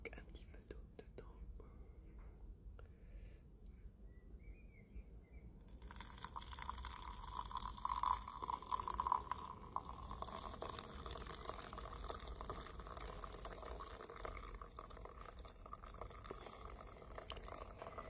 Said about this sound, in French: rajouter un petit peu d'eau dedans